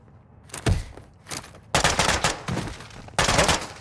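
Enemy gunfire in Call of Duty Modern Warfare II gameplay: several loud bursts of rapid shots with short gaps between them, punchy and close-sounding, with no voices.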